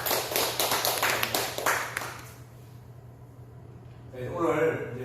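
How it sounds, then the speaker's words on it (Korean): Small audience in a lecture hall for new civil servants clapping: a brief burst of many hands that fades after about two seconds, then a pause before a voice resumes. "박수 한번 주세요."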